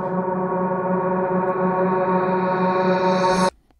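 A sustained sung vowel frozen into a dense, droning Valhalla reverb wash with steady stacked harmonics, holding evenly loud before cutting off abruptly near the end.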